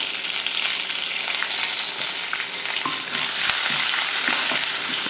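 Dried red chili, curry leaves and a pinch of asafoetida frying in hot oil as a tempering for rice, a constant close crackling sizzle with faint stirring.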